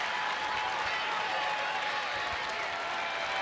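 Baseball stadium crowd at a Rangers home game against the Angels, applauding and cheering to rally behind pitcher Joe Nathan in a tense at-bat; a sustained, even wash of clapping and crowd roar, no voices standing out.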